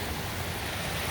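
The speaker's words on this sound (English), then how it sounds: "It's a raging river" Rushing water of a raging mountain river near a waterfall on a backpacking trail in the High Uintas, a loud, steady broadband roar filling the whole clip with no talk.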